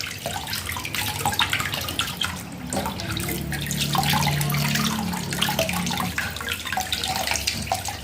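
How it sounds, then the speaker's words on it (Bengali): Water pouring steadily from a tap into a basin while fresh fish are washed, a constant close splashing rush with brief shifts in flow and faint handling noises. "জলটাকে একটু কমিয়ে দিই, নাহলে বেশি স্পিডে দিলে না অনেকটাই জল নষ্ট হবে।"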